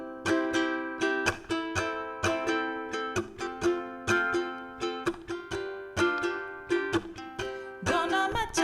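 Ukulele strummed in a straight, even rhythm, bright chords repeating in regular downstrokes with steady accents, close and clear with no voices.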